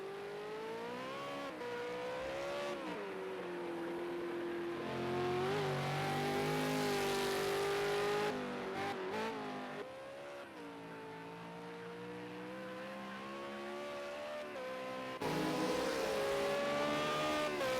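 V8 Supercar race car at Ruapuna Park revving hard while a driver struggles to manoeuvre out of a tight pit box; loud, close engine with rising and falling revs, sustained throughout with brief cuts.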